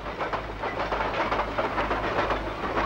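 A moving train in an old Tamil film scene, heard as a steady loud rumble with faint rhythmic clatter and hiss running throughout, with no talk over it.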